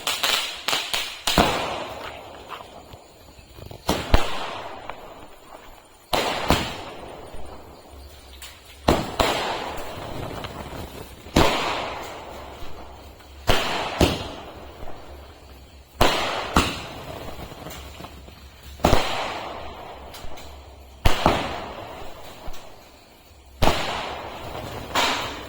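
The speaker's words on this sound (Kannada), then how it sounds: "ಸೊ ಕೊನೆಯದಾಗಿ ಸ್ಕೈ ಶಾಟ್ 15 ಶಾರ್ಟ್ಸ್ ಇದು ರೆಡಿ ಆಗಿದೆ" Sky shot fireworks, a 15-shot cake, fire in a steady sequence of loud, sharp launches and bursts a couple of seconds apart. Each bang has a short rumbling tail, and no voices are heard.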